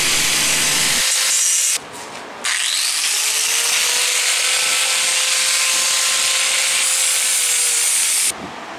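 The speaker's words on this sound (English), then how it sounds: "go over the edges with the grinding disc, and then a flat disc to clean up the edges that are going to be welded" An angle grinder with a grinding disc works the cut metal edges of a DIY steel fire pit being prepared for welding, a loud continuous whine broken by brief pauses and shifts in pitch, close and steady, with no talk.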